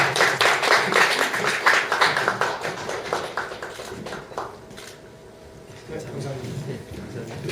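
An audience at a community talk session claps in a loud burst of applause that thins out over about four seconds, followed by quieter room sound with scattered faint noises.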